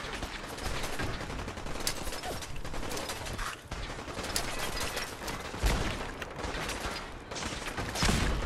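An alien blaster fires in Fallout 4 combat: a dense, steady barrage of rapid energy-weapon shots and clattering mechanical noise runs loud and close for the whole stretch, with a few sharper bursts near the end and no voices.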